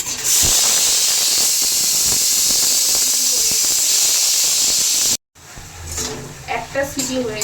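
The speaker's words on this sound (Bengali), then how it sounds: "একটা সিটি হয়ে গেছে, আর 7খানা সিটি হবে।" A pressure cooker hisses a loud, steady jet of steam while black chickpeas (kala chana) cook Punjabi style. After about five seconds the steam breaks off abruptly, and a voice then speaks over faint kitchen sounds.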